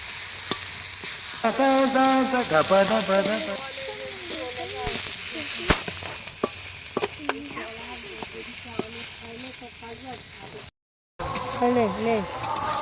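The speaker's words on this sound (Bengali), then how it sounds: "আদা রসুনটাকে দিয়ে দিলাম, ভালো করে নাড়ো।" Ginger and garlic sizzle and hiss in hot oil while being stirred, a steady frying crackle with scraping stir noises and a voice talking over it, briefly cutting out near the end.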